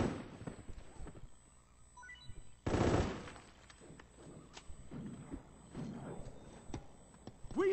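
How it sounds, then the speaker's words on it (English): Suppressing machine gun fire in Metal Gear Solid 4 rattles out in bursts of rapid shots, with a loud blast near the middle and scattered gunfire and battle noise around it. "suppressing fire!"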